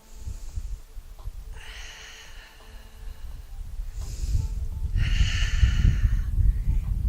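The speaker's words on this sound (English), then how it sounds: "2 more breaths" Slow, deep breaths taken during outdoor yoga stretching postures, with a light breeze; long airy inhales and exhales come in several swells, the last ones louder and closer, over soft wind rumble.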